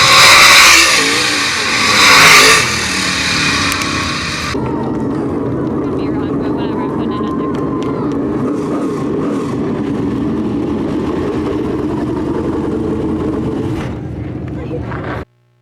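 Race cars roar around the track at Attica Raceway Park, loud engines surging past close by at first, then a sustained roar of the field continuing at a distance.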